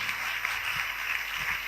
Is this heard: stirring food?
no